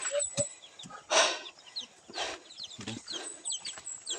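Chickens cluck and chirp intermittently nearby while being fed and handled, mixed with rustling and a few scattered bird calls.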